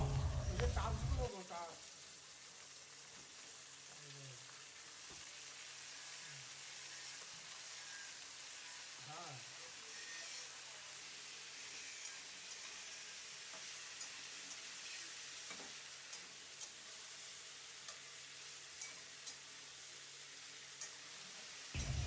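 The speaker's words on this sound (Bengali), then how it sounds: "এবার আমরা এই তেলটার মধ্যে 5 ফোড়ন দিয়ে দেবো, দিয়ে আলু, কুমড়ো এবং মূলো, পুঁই শাকের ডাঁটাটাকে এর মধ্যে দিয়ে দিলাম" Potato, pumpkin, radish and Malabar spinach stems fry in oil with a five-spice tempering, giving a faint, steady sizzle and hiss with a few soft clatters from the pan.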